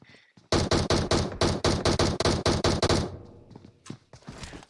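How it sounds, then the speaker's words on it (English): Rapid bursts of automatic gunfire in a battle royale video game scrim match, a steady rhythmic stream of loud close shots lasting a few seconds before tapering into scattered softer pops. "Jacob going to avoid all the gunshots on him as he boosts out of the way"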